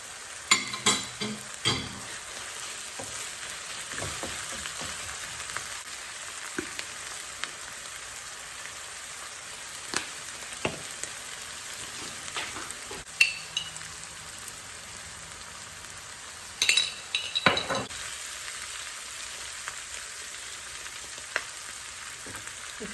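Ground beef fries in a pan for a Middle Eastern sloppy joe, with a soft constant sizzle and scattered scraping clicks as a utensil stirs and breaks up the meat, moderately quiet and with no talking.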